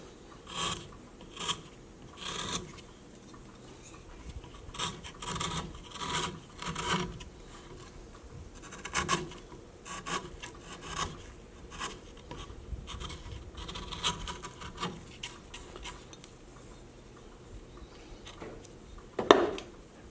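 A knife carves cottonwood bark in short scraping cuts, irregular faint rasping strokes and soft scratches with pauses, close and quiet with no talk.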